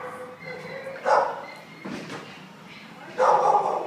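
German Shepherd mix dog in poor, scabbed and itchy condition at an animal shelter, giving two short whimpering yelps about two seconds apart over a low background murmur.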